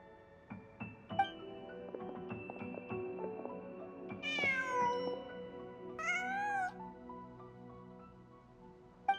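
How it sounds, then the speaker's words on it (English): A cat meows in the Genshin Impact video game, two clear rising-and-falling calls in the middle of the clip over a steady musical background. "Just a cat."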